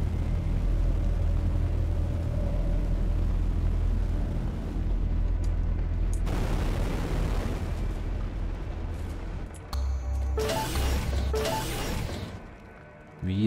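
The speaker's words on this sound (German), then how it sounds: "Und leite die Explosion ein." A long, heavy explosion rumbles in the space game Everspace 2, a deep sustained roar with crackling bursts layered on top, fading toward the end.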